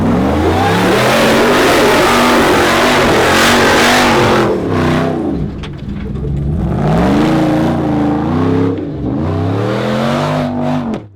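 An off-road rig on 44-inch tires climbing a rock obstacle at Sand Hollow, engine revving hard and held at high RPM, then dipping and surging again in repeated throttle bursts, loud and close.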